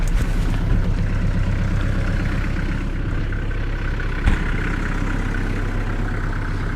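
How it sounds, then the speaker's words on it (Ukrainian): A Kubota KL46 four-cylinder, 46-horsepower tractor runs outdoors with a loud, steady mid-to-low engine drone and one short clunk partway through. "Двигун в цього трактора є 4-циліндровий, який видає потужність 46 кінських сил."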